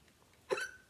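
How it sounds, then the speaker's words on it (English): A single sharp hiccup from a person after drinking cold water, close and fairly loud, breaking a quiet room briefly. "Oh gosh, I hate hiccups. It's because I drank cold water."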